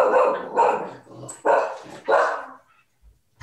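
Barking from a zombie dog in the film Army of the Dead: several loud, close barks come in uneven bursts with short gaps, then silence at the end.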